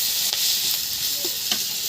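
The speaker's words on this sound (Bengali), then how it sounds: "সেই গরম তেলে কাঁচামরিচ দিয়ে দিব।" Green chilies hitting hot oil in a Bengali kitchen after rui fish was fried, giving a steady close sizzle with a few louder crackling bursts, no talking.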